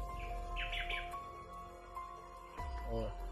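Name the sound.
distant bird calls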